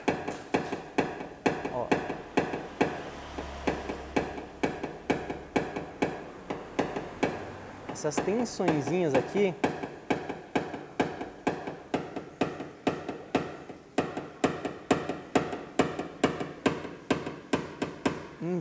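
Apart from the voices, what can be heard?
hammer tapping down a dent in a car body panel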